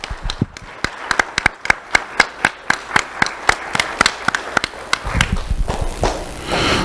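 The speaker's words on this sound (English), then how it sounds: "Let's have a round of applause for the school board and Dr." Scattered, evenly spaced hand claps from a small audience at a school awards ceremony honoring the school board, thickening into denser clapping toward the end.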